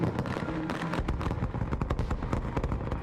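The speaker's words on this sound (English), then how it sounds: "those were the crappiest fireworks" Fireworks explode in Fallout: New Vegas, a dense rapid string of pops and booming cracks crowding one another for several seconds with no pause.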